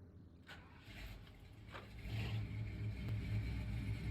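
A 1965 GWC W200 pickup truck engine in SnowRunner idles quietly, then rises into a steadier, louder low rumble partway through, with faint clicks over it.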